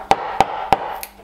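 A chisel chops into wood during traditional woodworking for a viking bed, three sharp, evenly spaced close knocks with a fourth lighter tap at the end, loud against a quiet background.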